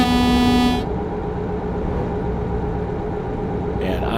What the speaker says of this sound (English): I am glad they improved the horn sounds with American Truck